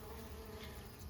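Honey bees buzz on a hive frame in a dense, continuous hum that stays steady and close, with no voices.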